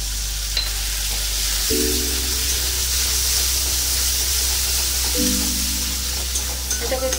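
Cashew and melon seed paste frying in a pan, a loud steady hiss of sizzling oil with a low hum and intermittent tonal whine in the background.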